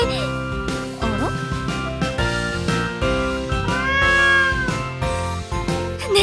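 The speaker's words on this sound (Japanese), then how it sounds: "猫だわ。" A cat meows in the Project Sekai video game, a clear mewing call laid over busy background music, with voices talking at times in the same passage.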